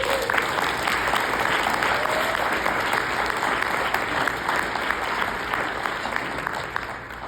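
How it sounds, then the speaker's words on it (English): An audience applauds in memory of Ms. McKinney at a Houston substance abuse field event, a sustained, dense round of clapping that holds steady for several seconds before easing slightly. "give Ms. McKinney a round of applause"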